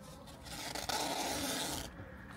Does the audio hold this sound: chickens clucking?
no